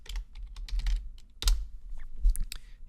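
Rapid typing on a computer keyboard during software work, clustered clicky keystrokes in short bursts with a brief gap, close and clear with no talking.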